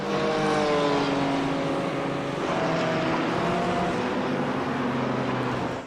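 A BMW M4 GT4 race car with a big engine in the iRacing video game, at Road America, drones loudly and continuously, its pitch climbing and falling through gearshifts.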